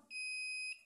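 A short-circuit detector emits one steady high-pitched electronic beep lasting just over half a second while a magnetron is being tested.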